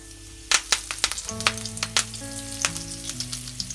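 Curry leaves dropped into hot oil for an Indian-style salmon and sea bass fry, crackling and popping in quick, irregular bursts over a steady sizzle, close up, with faint sustained tones humming underneath.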